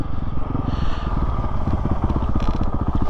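A 2021 Honda CRF450RL motorcycle engine idles close by, a steady rapid low-pitched chugging thump that continues evenly and loudly throughout with no speech.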